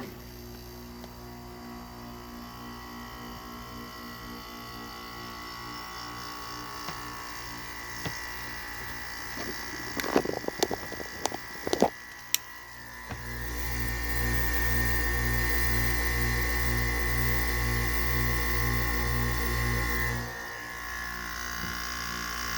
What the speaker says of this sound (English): So let's get this compressor going.